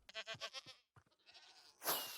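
Quiet wavering bleats from a Minecraft goat, a run of several pulsing cries followed by a couple of short grunts, then a brief burst of hissy in-game noise near the end.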